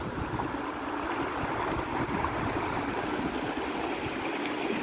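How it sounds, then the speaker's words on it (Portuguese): Waterfalls at Cachoeira da Lua, with many cascades falling together, produce a steady, loud rushing roar that does not break for the whole stretch. "Uma porrada de quedas d'água aqui maravilhosa."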